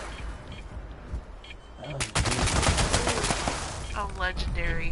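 Rapid gunfire in the video game Fallout 76 erupts after a quiet stretch, a dense burst of overlapping shots that continues for about three seconds, loud and close.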